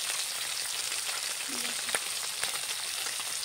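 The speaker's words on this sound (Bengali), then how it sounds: "দেখো ঠেঁটা মাছগুলো এবার ভাজা হচ্ছে ভালোভাবে।" Small headless fish frying in oil in a pan, a steady crackling sizzle with a couple of light utensil taps and a faint murmur underneath.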